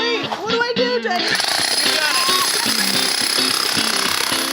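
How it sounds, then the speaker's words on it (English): A pneumatic hammer demolishes an old tile floor, pounding in a loud, continuous rapid rattle that starts after a moment of talking and then carries on steadily. "It was a demo of the old tile floor, so I gave Nicole the pneumatic hammer"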